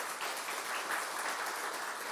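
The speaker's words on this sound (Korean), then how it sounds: "아주 크게 박수로 차렷 경례" A church congregation claps together during a Sunday afternoon worship service, a dense, even wash of applause filling the room for a couple of seconds.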